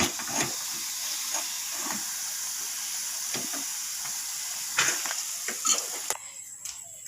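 Madan katkati, an old-style Bengali sweet, fries in a pan until reddish. A soft, steady hiss runs under occasional clinks and scrapes, then drops off abruptly near the end.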